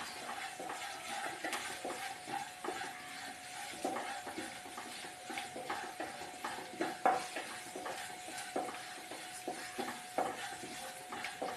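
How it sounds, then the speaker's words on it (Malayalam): Cooked elephant foot yam is sautéed in a pan, giving a steady low sizzle broken by repeated spatula scrapes and taps against the pan. "ഇനി ഇത് അതിനെ കൂടെ ഇതിനോട് തട്ടിയിട്ടൊന്ന് വഴറ്റിയെടുക്കണം"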